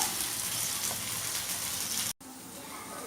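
Koduva (barramundi) fish frying in hot oil, a steady loud close sizzle that holds for about two seconds, cuts out abruptly, then returns softer.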